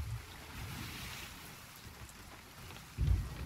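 A sea storm in the game Sea of Thieves, with steady rain and wash of waves against the ship, low thunder rumbles underneath and a heavier rumbling surge near the end; no voices.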